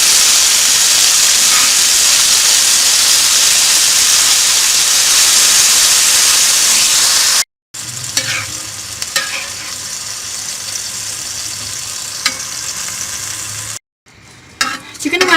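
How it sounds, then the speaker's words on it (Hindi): Chicken frying in a pan with a loud, continuous sizzle and hiss, then quieter frying after a sudden cut, with light stirring clatter over the softer sizzle. "और चिकन को फ्राई कर लेंगे।"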